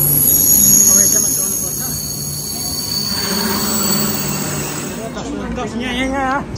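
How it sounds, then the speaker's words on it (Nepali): A Korean bullet train pulls into a station with a loud rumble and a sustained high metallic wheel squeal that shifts in pitch as it slows, while voices murmur nearby. "हाम्रो ट्रेन चाहिँ आइपुग्यो यहाँ"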